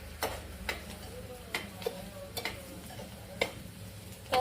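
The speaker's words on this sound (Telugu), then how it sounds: "కలిపితే బ్రౌన్ కలర్ వచ్చేదాకా ఫ్రై చేసుకోవాలి." Ivy gourd pieces fry in a pan while being tossed, a low sizzle punctuated by regular sharp clicks and scrapes of a spatula against the pan every half second or so.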